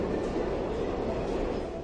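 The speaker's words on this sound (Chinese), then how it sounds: "猪爸爸继续开小火车出发了" A little cartoon train rolls off with a steady, faint rumbling rail noise, a continuous broadband rattle with no voices over it.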